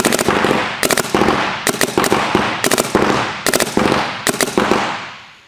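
A DLX Luxe Ice paintball marker fires loud, close bursts of rapid shots, several groups of quick pops separated by short pauses, with each burst ringing off briefly.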